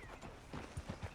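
Horse hooves clip-clop in the western game Red Dead Redemption, a few soft, evenly spaced thuds heard faintly in a quiet scene with no talking.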